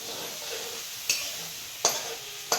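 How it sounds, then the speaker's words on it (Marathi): Vadi batter fries in a pan with a steady sizzle, broken by three short scraping stirs at regular intervals, close and fairly quiet. "तळून घ्यायचं"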